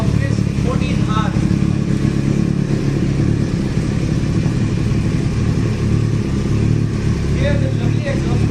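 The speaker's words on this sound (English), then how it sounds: "You can hear the pulse and pulsing roar of this 14R." A Kawasaki 14R motorcycle fitted with a Dan Motor slip-on exhaust runs with a steady, pulsing roar throughout, loud and close, with someone talking over the engine.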